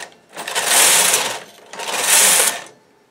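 A knitting machine works a tiny Christmas stocking. The carriage makes two loud, whirring mechanical passes, each about a second long, with a short pause between them.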